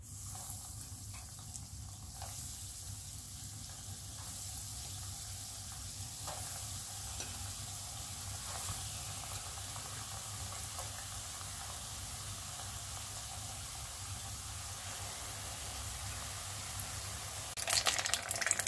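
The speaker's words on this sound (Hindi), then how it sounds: "तो चलिए अब फ्राई करना शुरू करते हैं।" Cheese-filled potato balls deep-fry in oil, a continuous soft bubbling sizzle with faint irregular crackles throughout, getting briefly busier and louder right at the end, with no voices.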